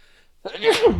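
One sharp, close sneeze bursts out after a brief quiet moment, loud and forceful with a breathy release.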